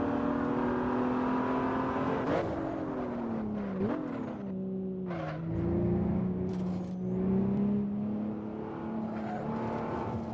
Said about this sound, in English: Sounds of the car, man.